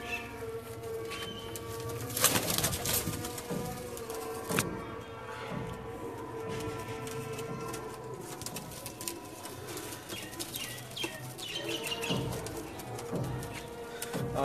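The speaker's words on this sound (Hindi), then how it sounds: "आज आपको माशाल्लाह से तीनों तरह के बटेरे कबूतर दिखाते हैं" Pigeons coo in repeated soft, low calls close by in a backyard loft in Sialkot, joined by occasional chirps and faint distant traffic.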